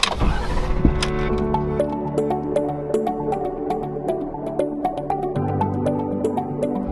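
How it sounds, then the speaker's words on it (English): Car interior while driving through Lassen Volcanic National Park: a steady low engine and road drone under a continuous hum, fairly loud and close, with faint scattered ticks and rattles and no speech. "As we're driving to the devastated area"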